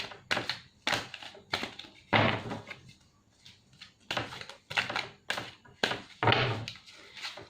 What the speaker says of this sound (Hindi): कार्ड्स जितनी शफल हम करते हैं मिनिमम 4 टाइम्स तभी एनर्जी एक्टिवेट होती हैं